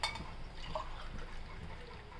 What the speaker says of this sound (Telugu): ఇదో 2 గ్లాసులు వాటర్ వేయాలి.